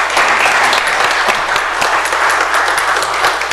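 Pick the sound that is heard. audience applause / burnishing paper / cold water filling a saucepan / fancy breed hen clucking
audience applause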